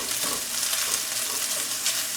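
Sausage browning in a pan for Thanksgiving stuffing gives off a steady, close frying sizzle with faint stirring movements throughout, and no voices.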